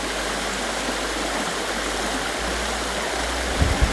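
Spring water at Ikogosi flowing in a loud, continuous rushing stream. It sounds close and steady, with a few faint bumps near the end and no speech.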